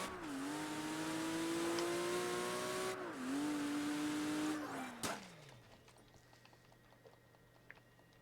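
A race car engine in the video game Project Gotham Racing 3 drones at high revs and dips briefly with a gear shift. The engine then winds down and fades into quiet background noise.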